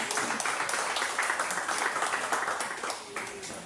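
A church congregation applauds together, a dense, steady wash of many hands clapping that fills the room evenly and softens slightly toward the end.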